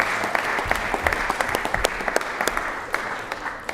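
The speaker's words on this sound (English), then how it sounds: "let's give them a big round of applause" Steady applause from an audience at a state legislative session, honoring a coach and a state championship football team, with dense continuous clapping and sharper individual claps throughout.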